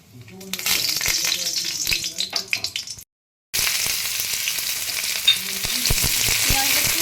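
Whole spices (cardamom, cloves, cinnamon) sizzle and crackle in hot oil with stirring clatter, a brief silent gap midway, then steady loud frying resumes.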